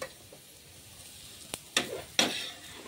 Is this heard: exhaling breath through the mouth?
no